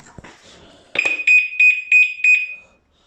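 Aftermarket alarm fitted to a Yamaha MT 125 motorcycle sounds nearby, loud, opening with a short handling noise and then giving five sharp, evenly spaced high electronic beeps before cutting off.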